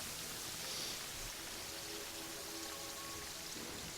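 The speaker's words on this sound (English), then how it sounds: "Ah, rain." Steady rain from the Terraria video game hisses continuously as a soft, even wash of noise, fairly quiet throughout with no voices over it.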